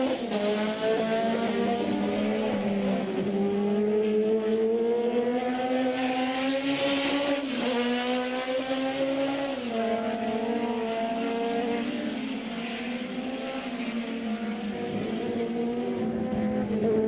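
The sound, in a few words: historic Formula 2 racing cars passing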